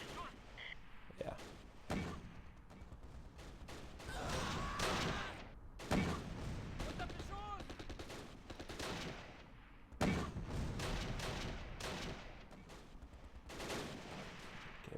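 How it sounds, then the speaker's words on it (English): Mortar and small-arms gunfire in the Close Combat Last Stand Arnhem war game, heard as dense, continuous bursts of rattling shots and thumps over fifteen seconds, with a voice talking over the battle. "we're going to cease fire with those mortars"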